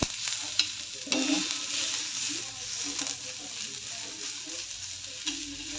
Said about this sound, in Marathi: आता चांगला कांदा असा लाल होऊ द्यायचा